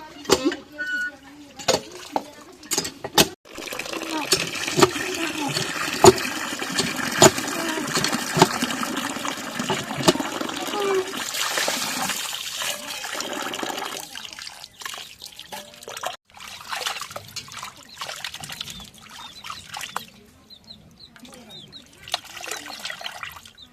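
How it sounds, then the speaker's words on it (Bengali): Goat meat rinsed under a running kitchen tap, with water trickling and dripping steadily for most of the stretch, mixed with handling clatter, and a voice speaking at times. "ওই যে মাংস এখন দিয়ে নেই কলের পরে"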